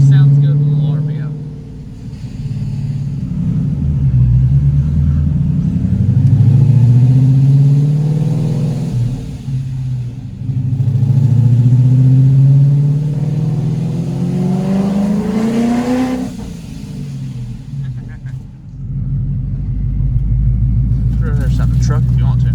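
A supercharged 2012 Ford Mustang GT engine revs loudly and close up, climbing and falling through several long sweeps of RPM with a deep, steady rumble, while voices talk over it.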